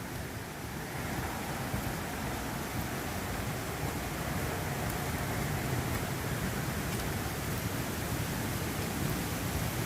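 Falling Creek waterfall in Florida: a steady, broadband rushing roar of falling water, constant and unbroken throughout, heard from a modest distance with no voices.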